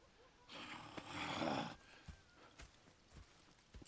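Horses in the video game Red Dead Redemption 2 shift and move, with hoof clops and a soft snort or whinny rising for about a second, then scattered isolated hoof knocks at a moderate distance, with no talk.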